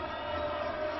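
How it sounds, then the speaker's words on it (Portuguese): Guarani fans roar for a goal inside a football stadium during a Campeonato Mineiro match against Atlético-MG, a dense, sustained crowd cheer with no single voice standing out. "vibra a torcida do Guarani"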